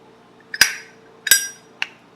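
Three sharp metallic clinks from a Zippo lighter lid snapping open and shut, two strong bright clicks followed by a lighter third, close and crisp over a faint background hum.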